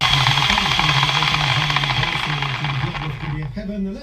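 A loud, continuous grinding whine of a cutting tool biting into metal while building a go-kart, steady and harsh, easing off briefly near the end.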